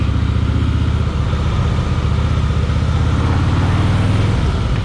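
Engine of a 2013 Harley-Davidson Softail Deluxe FLSTN on a riding test, a steady loud low-pitched rumble with a pulsing beat throughout, close up and continuous, no voices.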